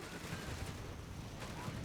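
In a Company of Heroes 3 match, a towed artillery field howitzer fires amid a dense, continuous rumble of battlefield explosions and gunfire, with a commentator talking faintly underneath.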